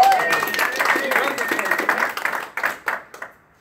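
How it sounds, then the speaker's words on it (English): Audience applause at an opportunity meeting night, moderate clapping from a crowd that fades out over a few seconds, with a voice speaking over it at the start. "Give her a round of applause."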